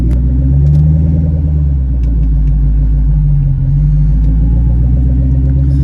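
A Bullitt car with a new Magnapack exhaust rumbles loudly and steadily from inside the vehicle, a deep throaty exhaust drone with slight rises in revs and no talking.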